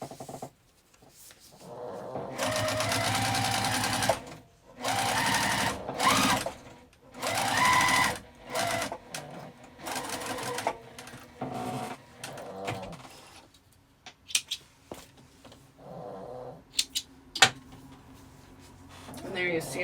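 A sewing machine stitches a zipper makeup bag with a presser foot lowered, running in several bursts of steady whirring separated by pauses and small clicks, with a voice talking in between.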